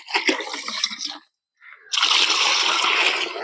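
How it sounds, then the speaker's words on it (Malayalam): Water poured in two bursts into a homemade mixture for protecting plants from caterpillars, a splashing, gushing pour that stops briefly and then resumes more steadily and loudly. "ഇതിൽ 2 ഇരട്ടി വെള്ളം കൂടെ നമ്മൾ ഒഴിച്ചു കൊടുക്കണം."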